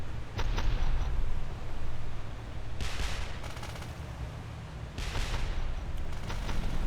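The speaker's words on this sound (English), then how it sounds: "They're firing some beehive shells at us." Beehive shells from an enemy warship burst around a boat in the naval video game Boat Crew: sustained heavy gunfire and rumbling explosions, with two sharper bursts of crackling fire standing out from a dense, loud battle din.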